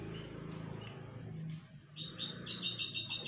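Small birds chirp in quick, high twitters near the end, over a low rumbling background hum, during song training for birds.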